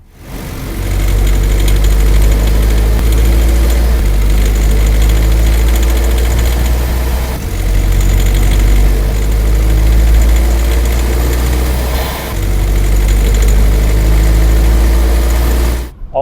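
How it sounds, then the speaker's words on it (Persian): A car engine idles with a persistent knock, recorded close up by a microphone placed inside the engine bay; a loud, steady low rumble with rhythmic tapping that barely changes throughout. "آقا ناکو شنیدین؟ اون عزیزانی که این صدا رو زیاد شنیدن ولی نمیدونن چیه، این همون ناک کشنده‌ای که معروفه."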